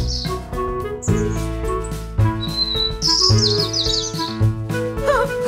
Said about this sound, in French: C'est un oiseau!